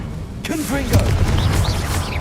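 The Confringo blasting curse explodes in the video game Hogwarts Legacy, a burst of booming blasts and crackling debris close up, with a voice speaking over the noise.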